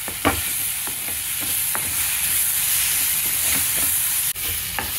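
Grated raw papaya sizzles and fries in a pan for papaya halwa, a steady bright crackle with repeated soft stirring scrapes and clicks throughout.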